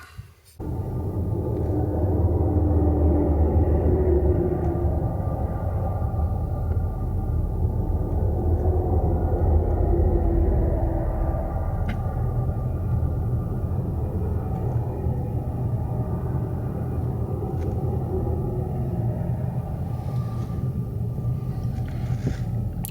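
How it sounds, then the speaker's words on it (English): A steady low rumble of heavy traffic persists as a convoy of big trucks rolls past on a snowy Norwegian road during a blizzard, continuous and fairly loud with no talking. "It's a whole convoy of big trucks coming past here."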